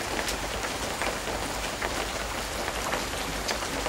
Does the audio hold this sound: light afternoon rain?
yes